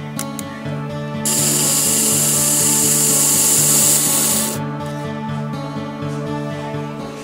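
A Work Sharp belt sharpener grinds along the blade of a pocket knife, a steady abrasive hiss that swells for a few seconds over the machine's constant motor hum, then fades back to the hum alone.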